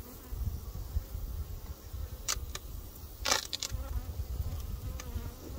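Honey bees at an opened hive in an apiary infested with hive beetles make a steady, close insect drone with a few brief louder passes as individual bees fly near.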